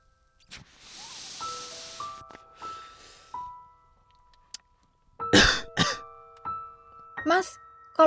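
Coughing from cigarette smoke in a narrated audiobook scene, several harsh bursts and throat clearing in the second half, set among soft sound effects and chimes.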